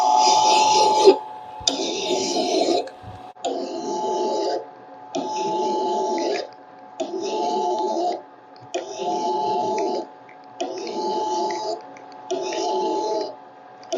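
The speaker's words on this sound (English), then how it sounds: "we're going to take my lathe file, turn it slow, and hit it with this" A lathe file held against a slowly turning metal rod on a hobby lathe rasps in regular strokes of about a second each, evenly spaced with short gaps, loud and close, with no talk.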